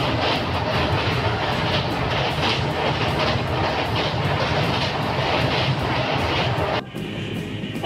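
An express train from Howrah to Visakhapatnam races past near Kharagpur at about 120 to 130 km/h, a loud, dense roar with rapid rhythmic clatter that drops suddenly near the end.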